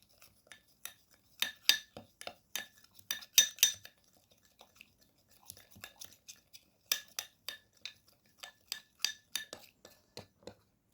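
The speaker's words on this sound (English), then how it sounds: "now we need to mix well all the ingredients" A coffee, milk and aloe vera gel mixture being stirred in a small bowl, giving a run of sharp, close clinks and scrapes of a utensil against the dish in irregular bursts, with short pauses between them and no talking.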